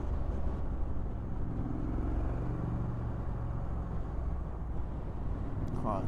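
A 2021 Triumph Street Scrambler rumbles steadily in third gear at low revs, its deep engine note mixed with heavy wind noise throughout.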